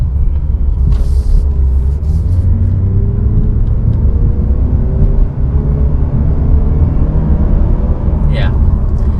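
A 2020 Mazda3 hatchback accelerates from inside the cabin, a loud low engine rumble with rising tone over steady road noise, without any speech.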